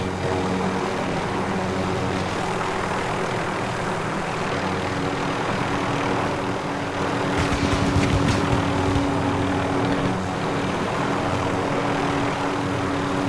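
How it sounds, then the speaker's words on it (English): Continuous rotor-like helicopter engine drone in the video game Call of Duty Warzone, steady and moderately loud, with a brief louder rumbling patch partway through. "I'm on a helicopter."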